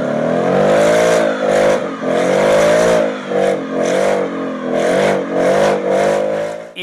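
A 2022 Ford Mustang Mach-E electric car revs in launch mode on a circuit, giving a loud, steady whirring drone with repeated rising and falling surges, close by and with no talk over it.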